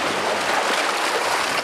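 Waves washing over a pebble beach on a remote island, a dense, close, continuous rush and hiss of water rolling stones, with no voices.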